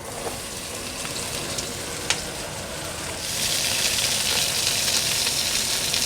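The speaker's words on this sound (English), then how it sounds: "And in goes the onions." Onions go into hot oil and sausage fat in a pot: a low steady crackle swells suddenly into a louder, brighter, continuous sizzle that holds to the end.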